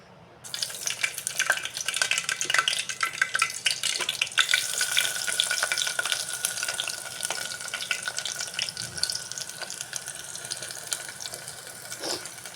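Onions, green chillies and tomatoes frying in cold-pressed oil, a steady crackling sizzle that starts abruptly and continues close and fairly loud, with occasional stirring sounds.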